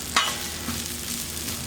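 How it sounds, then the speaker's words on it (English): Jalapeno and onion frying in leftover bacon grease for a burger, a steady close sizzle with a sharp clink of a utensil near the start, no talking. "get our jalapeno and our onion going on there."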